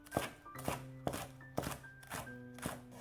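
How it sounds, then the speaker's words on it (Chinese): Knife chopping fresh spring onions into small rings on a cutting board, a run of close, sharp rhythmic cuts in quick bursts with brief pauses between them. "准备几颗新鲜的小葱，切成葱花"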